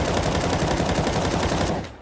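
Rapid automatic gunfire from a weapon in Counter-Strike 2, a dense, loud burst of shots fired in quick succession for nearly two seconds before cutting off, with no voices over it.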